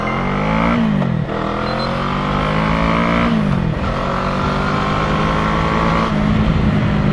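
An FKM Falcon X400 motorcycle accelerating hard and shifting up, its engine rising in pitch in several climbing pulls separated by brief dips at each gear change, loud and close with heavy wind noise.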